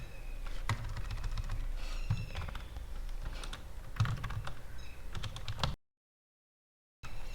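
Code being typed on a computer keyboard while building a Next.js app with Tailwind CSS: a steady, close run of rapid key clicks that breaks off briefly near the end and then resumes.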